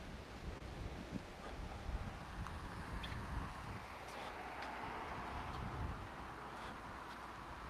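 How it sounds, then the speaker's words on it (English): Strong wind blowing off the water at night near palm trees, a continuous low rushing roar with faint surf-like swells and gusts, no voices. "There's a lot of wind coming off the water, but it's not really that cold."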